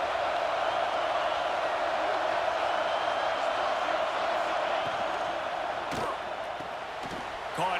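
A stadium crowd in the College Football 26 video game roars in a steady, loud wall of cheering, with a couple of brief sharp thuds near the end.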